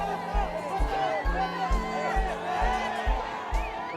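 Large crowd at a Red Bull Racing Formula 1 show run in Mexico City, a dense roar of cheering and whoops over a steady low rhythmic thump, with voices mixed into the din throughout.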